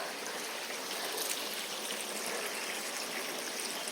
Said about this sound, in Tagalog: Ito ang daan natin. Daan sa Sapa.